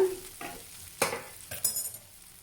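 Bitter gourd pieces frying with spice paste in a pan, with brief scraping stirs and short bursts of sizzle separated by quiet gaps, close and moderately loud.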